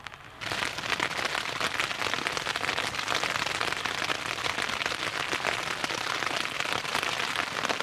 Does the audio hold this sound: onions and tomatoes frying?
no